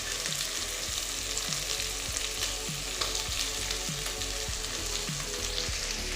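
Ivy gourd (koval) stir-frying in a pan, a steady dense sizzle with regular scraping strokes of the spatula about every half second, close and continuous with no talk.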